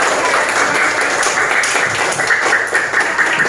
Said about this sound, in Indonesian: Ya, tepuk tangan untuk kita semua, ya.